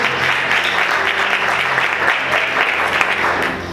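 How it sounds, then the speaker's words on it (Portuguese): A church congregation applauds loudly and steadily, a dense close wash of clapping throughout with no talk over it. "Você pode aplaudir Jesus com bastante força e alegria?"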